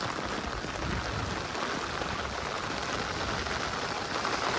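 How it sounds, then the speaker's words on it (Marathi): Dense, steady monsoon rain pours down in a flooded Konkan village in Sindhudurg, a constant broadband hiss of drops hitting surfaces with no pauses and no voices. "जोरदार पाऊस पडतोय"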